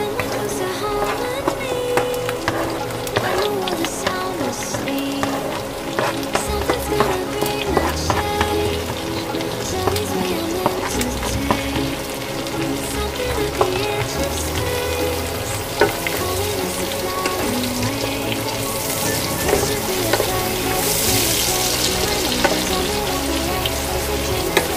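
Garlic and onion fry in a cooking pot for a Bisaya-style dish, with a steady loud sizzle and occasional stirring scrapes running throughout.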